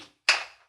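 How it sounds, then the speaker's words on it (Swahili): A single sharp hand clap rings out in a church congregation during worship, close and crisp, with a short fade. "Chapia Bwana makofi."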